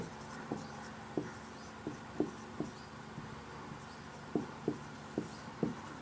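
Marker or chalk strokes on a board during a Hindi-medium chemistry lecture, a series of short sharp scratches and taps spaced irregularly over a low room hum, fairly quiet with no talking.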